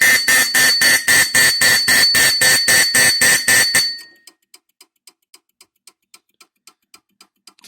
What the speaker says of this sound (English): You can hear the relay still clicking for NAC 2, signal circuit 2.